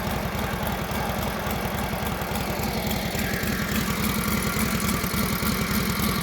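A restored 1942 Harley-Davidson WLA motorcycle with a freshly rebuilt carburetor idles steadily after a cold start, its loud, even low thumping continuous and close throughout, with no talking.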